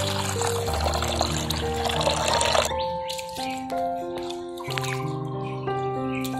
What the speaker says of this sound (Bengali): চালগুলোকে জল দিয়ে পরিষ্কার করে ধুয়ে নেব।